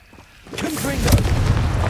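Confringo blasting spell going off in the Hogwarts Legacy video game, a swelling explosive rumble that builds from quiet to a loud, sustained blast, mixed with a brief vocal sound.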